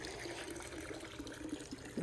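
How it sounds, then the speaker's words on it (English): Water runs into an inground pool to top up a low level, a continuous splashing trickle with a steady hiss, close by and moderately loud, alone without talk. "I'm just adding some more water."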